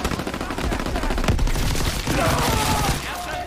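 Sustained automatic gunfire in a World War II Call of Duty game, loud rattling bursts with overlapping shots and one sharper crack partway through, continuous for a few seconds.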